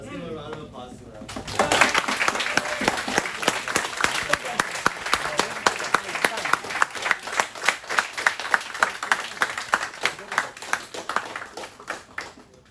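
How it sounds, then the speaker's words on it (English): An audience gives a sustained round of applause at an end-of-year drum corps gathering, with dense, steady clapping that swells in after a quiet start and carries on for about ten seconds before tapering off. "Let's give a round of applause to them."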